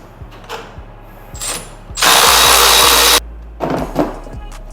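A ratchet loosens 10 mm bolts on the shifter brackets of a Civic Type R, with quick bursts of close metallic clicking and one sustained loud buzzing spin between them.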